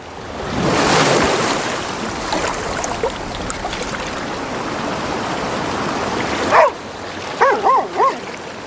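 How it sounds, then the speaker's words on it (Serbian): The rapids of Beaver Creek roar steadily as a broad wash of water, and a dog barks several times near the end. "Kakva je to tutnjava? Brzak Dabrovog potoka."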